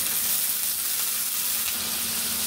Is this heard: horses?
no